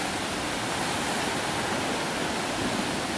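Waterfall at Jogan beach, a steady broadband rush of falling water, loud and unbroken throughout with no voices.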